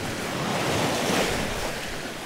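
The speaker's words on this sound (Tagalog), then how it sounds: "Nababasag yung alon." Waves breaking on a rocky fishing shore, a broad loud wash of surf with wind noise swelling and easing, nearby and alone without talk.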